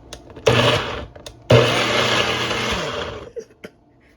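A kitchen blender pulses garlic for a raw vegan recipe in two short bursts, the second a longer whirring run that winds down, loud and close with brief clatter afterward.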